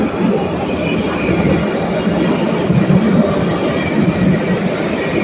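A train rolls past close by, a steady, loud rumble with faint clickety-clack of wheels on rails and a brief squeal, heard alone throughout.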